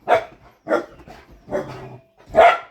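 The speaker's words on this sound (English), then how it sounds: "You don't need to be barking." A dog barks four times close by, sharp and evenly spaced, with brief silences between each bark.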